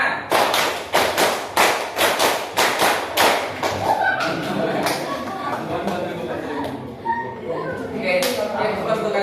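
Classroom of students clapping hands in a counted rhythm, a run of sharp, loud, evenly spaced claps followed by a looser patter of claps with a teacher speaking over them.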